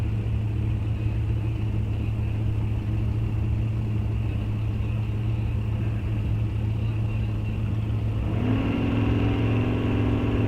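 At a drag strip during bracket racing, a steady low engine drone dominates, and near the end a distant car accelerates with a rising whine. A voice is faintly present in the background.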